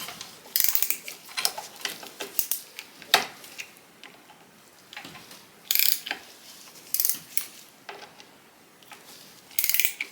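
A lever is turned on a tipped-up 1927 Singer 127 sewing machine, producing close ratcheting clicks and gear-like mechanical rattles in irregular bursts, with brief pauses between them.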